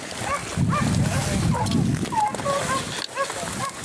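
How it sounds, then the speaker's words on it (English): A puppy yaps and whimpers in short, high bursts amid a noisy outdoor crowd with people talking nearby. "That puppy barking right there"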